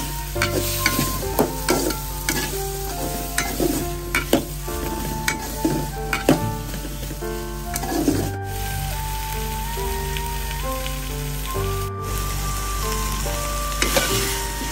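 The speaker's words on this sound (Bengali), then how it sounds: "এবং খুব ভালো করে ভেজে নেব।" Grated coconut and potato pieces fry in a pan, with a steady close sizzle and repeated scraping stirs clattering through it, no voices.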